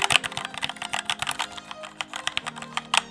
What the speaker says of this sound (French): On va écouter le bruit du mécanique.